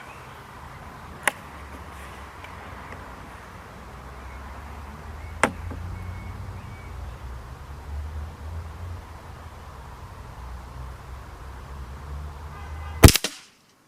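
Three sharp, isolated air rifle shots, from a BSA Ultra or Kral Puncher NP02 during an outdoor target shootout, crack over quiet ambient background, the last one loudest and followed by brief rattling.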